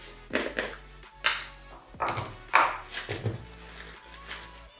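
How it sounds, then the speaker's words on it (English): Hair bleach powder being mixed in a bowl: a series of clinking, scraping strokes at a steady pace, close and moderately loud, with no voices. "I'm going to go ahead and mix the bleaching."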